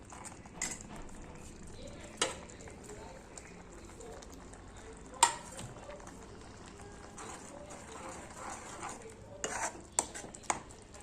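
Chickpea leaf vegetable mixture being stirred in a pan for a village-style dish, with intermittent scraping and clinks of a utensil against the pan over a soft background, a few sharper knocks standing out; a voice can be heard faintly.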